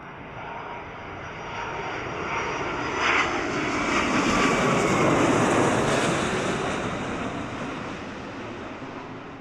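A large aircraft passes very close overhead at RAF Mildenhall, a loud continuous jet roar that swells to a peak mid-way and slowly fades, with no talking.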